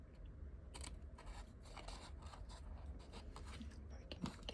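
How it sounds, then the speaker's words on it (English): Scissors snip through paper for a slim-line card with a gift caddy, a series of faint, quick crisp cuts and rustles heard close up, with no one talking. "Get my scissors in there."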